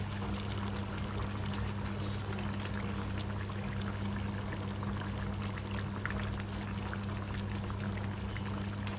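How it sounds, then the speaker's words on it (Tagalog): Oyster sauce or fish sauce is poured into a pot of chicken curry, making a soft, continuous liquid pour over a low steady hum, quiet and close, with no talking. "Lagyan natin siya ng oyster fish sauce or patis."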